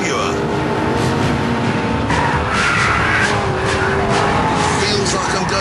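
An Aston Martin V8 Vantage on sticky Pirelli tyres drives hard in pursuit of a Jaguar XKR, its engine a loud continuous roar with a voice talking over it.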